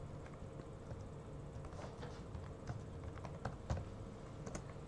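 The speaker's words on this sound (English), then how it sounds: "I'm typing this with like a 1 second delay of the screen" Steady typing on a computer keyboard, with rapid irregular key clicks running throughout at a quiet, close level and no talking.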